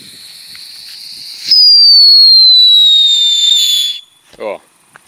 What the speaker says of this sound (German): machen wir die Luftpfeife